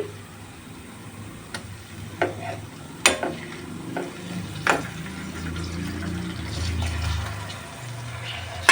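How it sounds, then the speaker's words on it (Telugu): Tomatoes go into a frying gongura chicken curry and get stirred, producing a low steady sizzle with scattered sharp clacks and scrapes of a spoon against the pot. "సో ఇప్పుడు టమాటోస్ వేసుకుందామండి"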